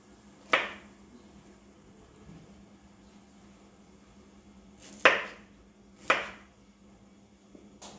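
A knife slicing through pineapple in a quiet kitchen: three sharp cuts, one early and two close together later, each a crisp slice with a short tail over a faint steady hum.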